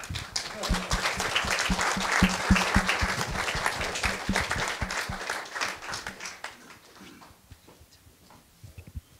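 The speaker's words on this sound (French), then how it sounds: "Vous pouvez vous applaudir." Dense applause from the audience at a French landscape and territory discussion session, steady at first and then thinning and fading after about six seconds, with some voices underneath.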